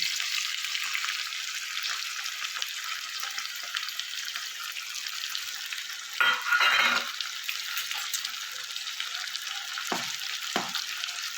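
Ginger-garlic paste sizzles steadily in a pan with frying capsicum and cashews for a kadai paneer gravy, a continuous close hiss with a louder burst of stirring midway and two short scrapes near the end.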